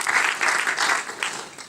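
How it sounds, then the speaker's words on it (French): Audience applause at an environmental micropollutants conference, a steady wash of clapping from a crowd in a hall. It is moderately loud, with a swell and slight fade over a couple of seconds. "qu'on applaudit également"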